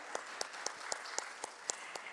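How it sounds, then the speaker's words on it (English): A few people clapping at a stock exchange listing ceremony for Fascinate Textiles Limited, with sparse, distinct claps spaced in a steady rhythm rather than a full roar. "a big, thunderous round of applause."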